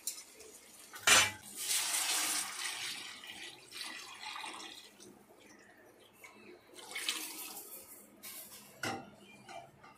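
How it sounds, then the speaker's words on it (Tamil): Tamarind-water kuzhambu poured into a hot onion and tomato tempering in a pan, with loud sizzling splashes, clatters of a metal vessel and bursts of spattering hiss across the pour. "இப்போ வந்து குழம்பு தாளிச்சு ஊற்றியாச்சு,"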